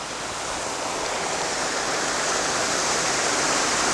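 Tall waterfall on a small creek along Highway 100 near Granville, Vermont, pouring in a loud, constant broadband roar that holds evenly throughout with no voices.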